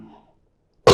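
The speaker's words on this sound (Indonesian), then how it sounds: "Sengaja saya batuk karena terlalu emosi." A single deliberate cough bursts out sharply at the very end, close and loud, following a faint trailing voice and a moment of near silence.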